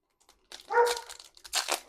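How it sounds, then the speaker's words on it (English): A dog gives a short bark, followed by crinkling and rustling of card packs, fairly close and alone without talk. "Sorry for my dog right there."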